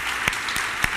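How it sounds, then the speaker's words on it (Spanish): A church congregation applauds in a brief burst, a few separate sharp claps standing out over a soft background wash. "Dale un aplauso a papá Dios."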